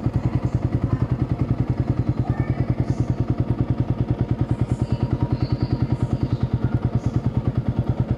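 A big motorcycle's engine thuds close and loud in a fast, even pulse that holds steady throughout.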